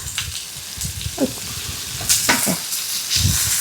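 Onion and paneer filling for kathi rolls sautés in a pan, a steady close sizzle with scattered scraping stir strokes and small clatters, no voices.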